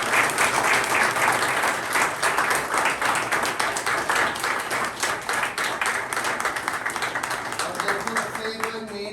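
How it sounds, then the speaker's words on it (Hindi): Loud, sustained applause from an audience at a gathering marking the International Day against Drug Abuse, dense clapping that holds steady for several seconds before tapering slightly near the end. "तो इनके लिए एक बार फिर जोरदार ताली।"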